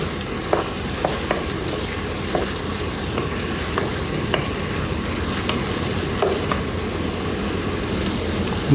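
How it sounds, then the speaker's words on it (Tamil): Onions sauté in hot oil in a pan for Arabic foul, giving a steady, dense sizzle with scattered scraping stirs, close and fairly loud with no voices. "வெங்காயம் போட்டாச்சு வெங்காயம் வதக்கிடுவோம்"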